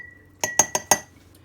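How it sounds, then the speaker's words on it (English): A glass jar clinks four times in quick succession, close and fairly loud, as it is handled for storing homemade onion paste in a kitchen. "So what you do, you just store it in a jar."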